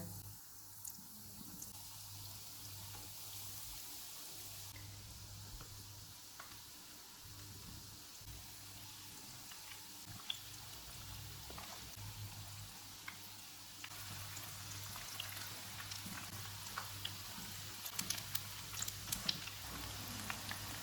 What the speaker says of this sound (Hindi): रोल फ्राई हो गए, इनको निकाल लेते हैं।